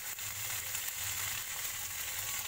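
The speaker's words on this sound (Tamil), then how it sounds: "வெங்காயத்தை சேர்த்துக்கலாம். இஞ்சி சேர்த்துருக்கேன். இப்போ பூண்டையும் சேர்த்துடலாம்." Onion, ginger and garlic frying in a pan for a mutton bone curry, a steady close hiss of sizzling oil throughout with no voices.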